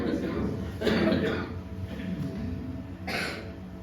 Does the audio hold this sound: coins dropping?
no